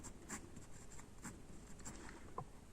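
Marker or chalk writing on a board during a Hindi-medium English grammar lesson, faint short scratchy strokes at an irregular pace, quiet and close, with no talking.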